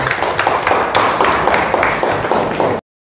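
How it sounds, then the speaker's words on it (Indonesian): A classroom audience applauds a student, steady clapping filling the whole stretch at close range before cutting off abruptly. "Oke, tepuk tangan dulu untuk Cindy."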